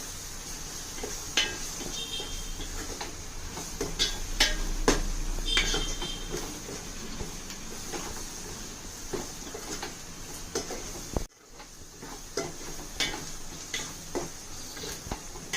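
A spoon stirs coriander and cumin powder through an okra and raw prawn curry in a pot, giving scattered light clinks and scrapes against the metal at close range, with no talk.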